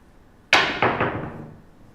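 Dice land on a craps table at a random-shooter game with a sharp rattling impact, a second bounce close behind and a brief clatter that fades, all heard up close and on their own.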